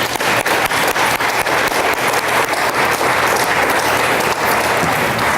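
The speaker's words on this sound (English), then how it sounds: "Please give them a round of applause." Loud, continuous audience applause at a school board honors and recognitions meeting, a dense wash of many hands clapping that holds steady throughout without any talk.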